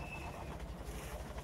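A train in the video game Half-Life 2 rumbles steadily in a low, continuous drone with a faint high whine, heard alone without speech.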